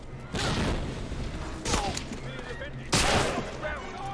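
Grenade blasts and gunfire in Medal of Honor: Allied Assault, a World War II shooter, with two loud broadband bursts standing out over steady battle noise and scattered shots.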